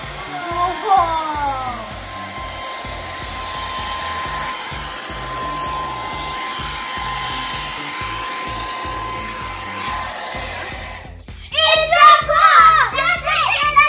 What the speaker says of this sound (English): Jack, where did you put that hair dryer? Oh, quick, let's plug it in.